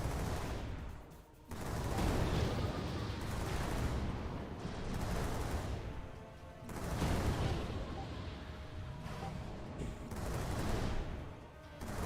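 Rockets fire in repeated bursts in the 3D online space game Pirate Galaxy, producing loud, dense, explosive volleys that rise and fall in waves with brief lulls between them.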